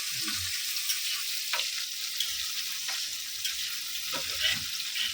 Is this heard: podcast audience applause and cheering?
no